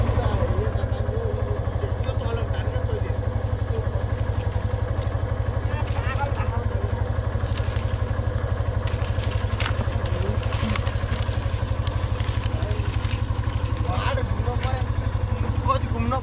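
A motorcycle engine idles close by in a rural village at night, a steady, throbbing low putter that runs the whole time. Faint clatter and voices are in the background.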